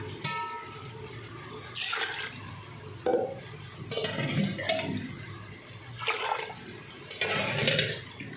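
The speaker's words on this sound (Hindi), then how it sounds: "इसलिए मैं फाइव प्याले पानी डालूँगी" Water is poured into a pot for chicken pulao in several separate splashing gushes, each a second or so long, with short pauses between, heard up close.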